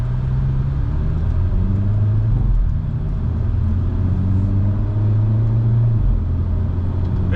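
Hyundai Elantra N driving with paddle-shift downshifts, a steady loud engine drone from inside the car with shifting tone changes as revs rise and drop.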